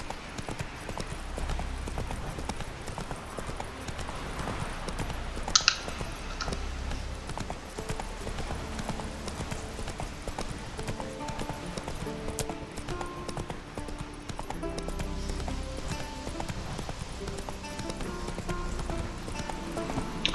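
Roach the horse galloping in The Witcher 3 video game, rapid clip-clop hoofbeats continuing throughout, with a brief whinny and game music underneath.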